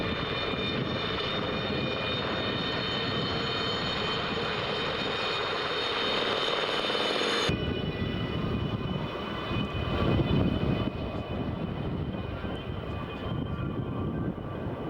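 Helicopters of the Grasshoppers Helicopter Display Team make a steady, loud rotor and engine roar that drones on continuously, with a sudden shift in tone partway through and no voices.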